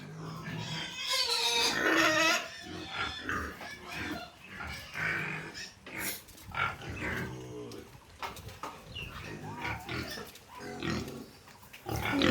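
Several pigs grunt, snort and squeal nonstop in their pen, close by and busy, with overlapping calls filling the whole stretch.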